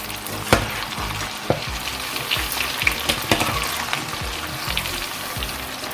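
Croquette batter made with eggs and flour frying in hot oil, giving a busy, close sizzle and crackle with sharp pops and a few spoon knocks, continuous and with no talking.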